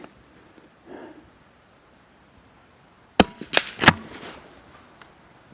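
Blaser R8 straight-pull rifle in .22 rimfire firing a single shot: one sharp, close crack followed by a brief rattle of mechanical clicks, then quiet.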